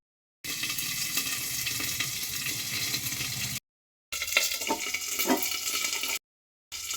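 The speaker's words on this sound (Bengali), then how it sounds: "কেননা কারি পাতাটা খুব ফোটে।" Curry leaves and black mustard seeds splutter in hot oil in a pan. The sizzle is dense and steady, with crackles and pops, and it breaks off in short gaps where the sound cuts out.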